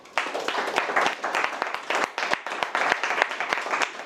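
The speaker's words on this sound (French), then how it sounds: "Je vous demande d'applaudir pour vous." An audience at a leadership talk applauds itself, loud and close, with dense bursts of clapping that swell and dip in waves across the few seconds.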